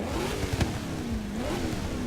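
A Hoonigan car with four exhaust pipes in Forza Horizon 3 gives a short, fairly quiet engine rev, its pitch rising and dipping in a couple of swells, with no talk over it.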